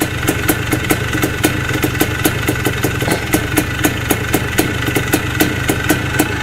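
A 1981 Suzuki RM 250 motocross race bike engine idles close by with a steady, fast, evenly pulsing two-stroke beat and no voices.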